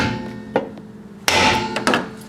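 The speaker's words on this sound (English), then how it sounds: "You can either hammer it out for like an hour like this dude." Metal hammer blows knock at a trailing arm bushing on a Honda CR-V, several sharp, irregular strikes, one loud and close with ringing decay, without talk.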